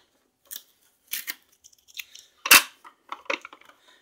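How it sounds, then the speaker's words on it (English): Tape is pulled off a new Keurig K40 Elite coffee maker during unboxing, heard as a few short, close ripping and crackling bursts separated by quiet gaps, the loudest tear in the middle, with no talking. "it's got tape all around it. So what? I'll have to peel the tape off."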